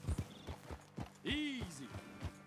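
Horse hooves clip-clop at a walking pace in Red Dead Redemption 2. The hoofbeats come as a steady series of nearby thuds, and a short neigh sounds partway through while a voice talks over them.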